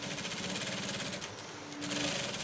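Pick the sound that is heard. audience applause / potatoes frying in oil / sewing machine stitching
sewing machine stitching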